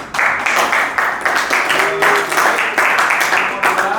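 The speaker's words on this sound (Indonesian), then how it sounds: "Kita berikan aplaus untuk kelompok 2 ya." A classroom of students applauds for a presenting group, with dense, steady clapping that holds at an even level for the whole stretch, with no voices over it.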